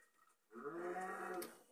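A cow in the Minecraft video game gives one drawn-out, nasal moo that starts after a quiet moment and lasts over a second, clear and close with no talking.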